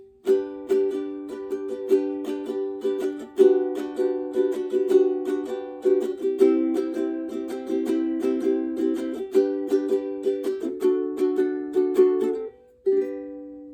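Ukulele strummed in a steady down-down-up pattern, moving through several chords, bright and close, ending with a final strum after a brief pause.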